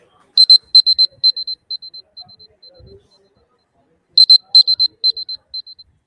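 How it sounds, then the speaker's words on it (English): Small presentation timer buzzer at a trading-competition panel, sounding in two bursts of rapid electronic beeps that slow and fade, clear and close with nothing else around it. "there'll be a small buzzer,"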